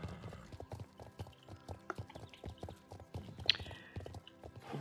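Horse hooves clip-clopping in a steady riding rhythm in the video game Star Stable Online, near and clear, with a brief whinny-like accent partway through and no talking.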